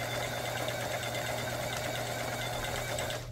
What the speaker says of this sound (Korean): 옷감과 옷감 사이를 연결시켜주는 박음질.